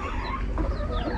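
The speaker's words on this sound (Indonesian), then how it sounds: "ini adalah DOC saya yang anakan dari tiga darah dan juga si besut" Day-old chicks chirp in a dense, continuous chorus of high, overlapping peeps, close and fairly loud with no talk.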